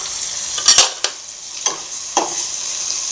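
Food frying in about two tablespoons of oil in a pan, a close sizzle broken by several sharp spoon-scrape stirring strokes, with no talking.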